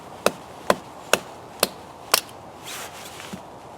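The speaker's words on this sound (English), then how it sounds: "absolutely no real or noticeable difference between its ability to batten" Bushcraft knife battening wood, struck repeatedly with a baton in about five sharp, evenly spaced cracking knocks, close and clear, followed by a softer scraping rustle and one faint tap.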